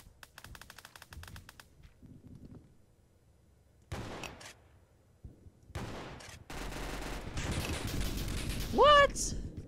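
Shotgun firing in the Roblox game Oof Brigade, sharp crackling blasts in several separate bursts among quiet gaps, turning into a louder continuous clatter toward the end, with a person talking at times.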